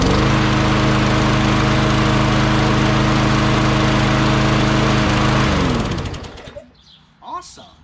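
Tecumseh 5HP push lawn mower engine on a Craftsman 21-inch mower, running loud and steady close by after starting on the first pull, then cut off abruptly near the end, leaving faint background sounds.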